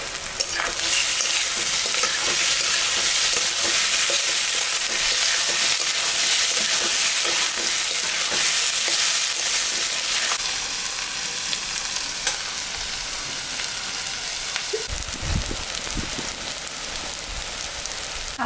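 Chopped tomato frying in a pan for egg tadka with banana flower, a loud, steady sizzle with occasional stirring scrapes, easing slightly toward the end.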